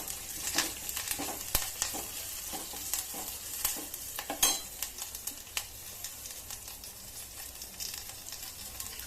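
Curry leaves hit hot oil for a pepper rasam tempering, giving a close, steady crackling sizzle punctuated by sharp clicks and scrapes of a spoon stirring the pan.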